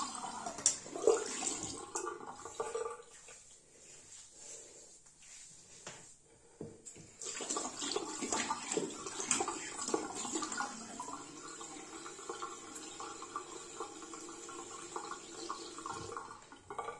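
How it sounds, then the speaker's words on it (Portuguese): Running tap water pours into a sink while a shaving razor is rinsed during a wet shave, quiet and steady with a pause midway before the flow resumes more strongly. "Vou passar aqui por água"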